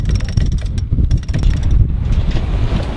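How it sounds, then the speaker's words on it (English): Wind rushing past a sailboat under way off Southeast Asia, a steady blustery buffeting on the microphone with low rumbling gusts and faint creaks, no voices. "The wind's starting to pick up a little bit."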